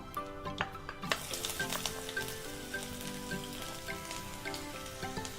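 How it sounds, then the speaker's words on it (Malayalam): Ginger dropped into hot sesame oil with popped mustard seeds sizzles steadily and close by, with scattered crackles and pops and no talking. "ഇതിലേക്ക് നമുക്ക് ഇഞ്ചി ഇട്ട് കൊടുക്കാം."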